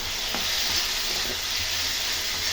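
Vegetables with chopped capsicum sizzle steadily in a pan for oats upma, a soft even frying hiss with faint stirring taps.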